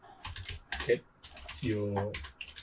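Typing on a computer keyboard while building a simple web form, a run of quick key clicks mixed in with a person talking over them.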